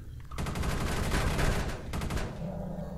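Rapid automatic weapon fire in the sci-fi shooter game Space Beast Terror Fright, a dense loud burst of shots, a brief pause, then a second shorter burst.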